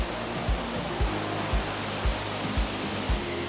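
A waterfall in Una National Park, Bosnia, heard from a trail beside it, gives a steady, loud broadband roar with soft low thumps recurring about every half second.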